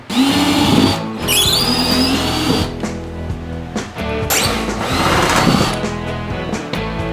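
Power tool grinding at rusted-solid screws in the rotted floor of an Airstream trailer: a loud, continuous motor whine with shifting pitch, sharp squeals and brief stalls, close by with no talk.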